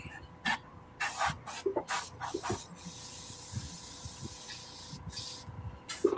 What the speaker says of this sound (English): I use a little 4021 to clean out the airbrush.